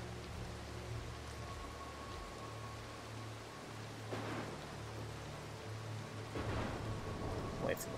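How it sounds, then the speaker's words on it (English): Rain and rumbling thunder from a stormy night level in the stealth game Mark of the Ninja, a steady hiss of downpour with a couple of low rolling swells, fairly quiet throughout. "We're going to have to use the lightning to get past him."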